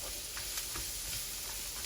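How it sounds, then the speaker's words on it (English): Onions and garlic sizzle in olive oil in a pan for pancit bihon with beef, a steady, moderately loud hiss with faint crackles throughout and no voices. "Onions and the garlic are starting to pick up some of that olive oil"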